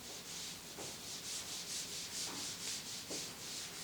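Something wiping a board clean in rhythmic strokes, a close, steady swishing rub repeating about every half second with no talk.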